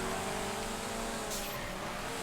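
A Feltzer car in GTA 5 drives a race track, its engine a steady, fairly faint hum with a level, sustained tone throughout, with a brief brighter hiss midway.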